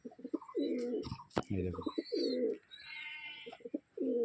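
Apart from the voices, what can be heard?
pigeon cooing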